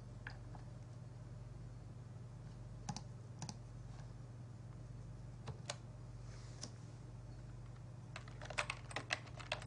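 Fingers tapping on a computer keyboard while setting up a Facebook account, irregular clusters of light clicks and short bursts of keystrokes over a steady low electrical hum, close and fairly quiet.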